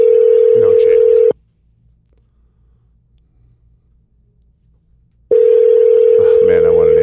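A steady, loud telephone ringback tone sounds while a call is being placed, breaks off into a few seconds of near silence, then returns, with a voice over the second part.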